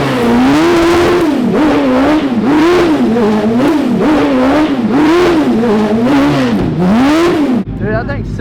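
Homemade go-kart engine revving, its pitch rising and falling in a steady wavering cycle, loud and close, with people talking over it before the engine drops away at the end.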